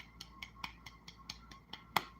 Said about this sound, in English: Let me give you a hand clap.